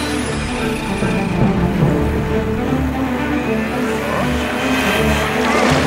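A cartoon motorboat races across water in an animated pirate-treasure adventure, its engine whining steadily over splashing with music underneath, loud and unbroken throughout.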